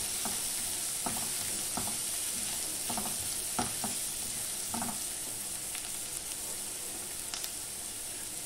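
Onion being sautéed in a pan, a soft, even sizzle with a regular series of spoon taps and scrapes against the pan, fairly quiet and close.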